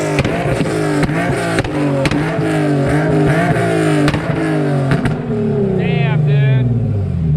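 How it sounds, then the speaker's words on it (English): Car fitted with a Tomei exhaust and Motordyne art pipes revving hard, loud and close, with sweeping rising and falling engine tones that drop away to idle near the end. "So this is a Tomei exhaust with Motordyne art pipes, and let's hear what it sounds like."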